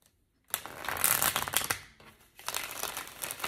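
After a brief silence, a deck of tarot cards is shuffled up close in two crisp riffling bursts separated by a short pause.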